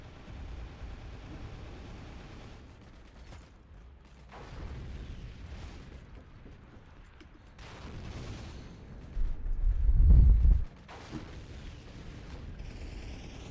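Tank guns fire in a World War II tank game, with dull distant booms now and then and one heavy, close, rumbling blast near the end over steady battle ambience.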